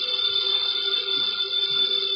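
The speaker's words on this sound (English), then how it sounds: "the ringing of that phone bell means mystery, adventure" An old-style telephone bell rings as a sound effect in a 1950 Nero Wolfe radio mystery drama, a continuous, bright electric ring held steadily from start to finish with no voices.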